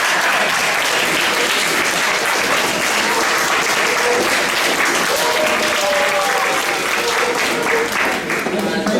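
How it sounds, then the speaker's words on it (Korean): Loud, sustained applause from a crowd at a Korean Marine Corps veterans' association event on Yeonpyeong Island, steady clapping filling the whole stretch with faint voices mixed in. "박수!"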